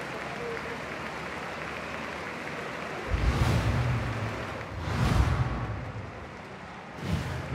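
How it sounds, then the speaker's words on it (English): A crowd applauds the tennis players at an exhibition match at the Monte Carlo Country Club in Top Spin 2K25, with noisy bursts of clapping that rise and fade in waves under an announcer's voice. "Merci de bien vouloir donner un tonnerre d'applaudissements aux joueurs."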